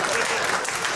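Audience applause fills the moment, a continuous wash of many hands clapping at even loudness with no pause.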